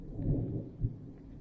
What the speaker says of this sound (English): I don't like that lightning